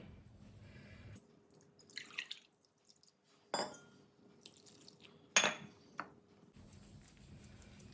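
Four tumblers of water poured into a ground chili-salt paste for murukku vadam and stirred: faint intermittent splashes, drips and clinks of utensil against the vessel, separated by quiet gaps, over a low steady hum.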